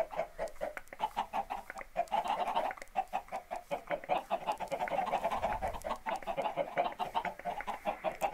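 Minecraft chickens cluck continuously in quick, rhythmic bursts, a close, busy flock of in-game fowl with no talking over them.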